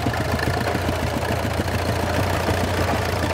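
A 1934 vintage tractor engine running at a tractor parade in Degeberga, a steady, loud, close chugging idle with a low, even pulsing throb throughout.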